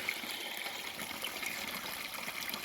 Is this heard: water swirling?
yes